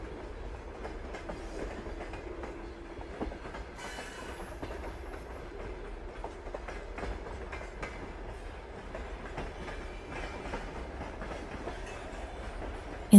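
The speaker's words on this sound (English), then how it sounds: "on a quiet night train moving through the dark" A train rumbles steadily along the rails with faint rhythmic clacking, a low continuous hum and no voices.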